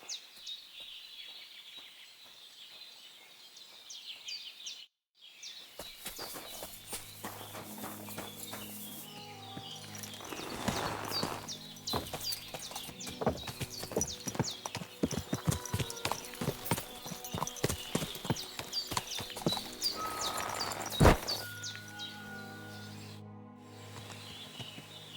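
Horse hooves clip-clop steadily in Kingdom Come Deliverance 2, a close, continuous rhythmic clatter running under game music and ambient birdsong, with a brief drop-out early on.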